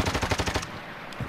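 Rapid bursts of automatic gunfire in the video game Warzone, fairly close and loud, a quick string of shots for about half a second followed by a lull and one faint trailing report.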